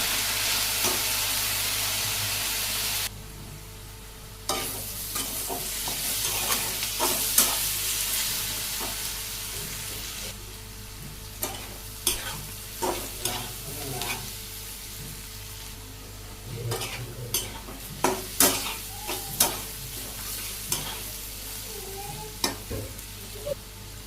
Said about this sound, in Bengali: হলুদের গুঁড়ে, মরিচের গুঁড়ে, ধনিয়ার গুঁড়ে, ভালো করে কষিয়ে নিয়ে